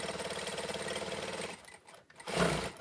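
A Jack industrial sewing machine runs at speed with a fast, even mechanical chatter, then slows and pauses briefly before starting up again loudly near the end.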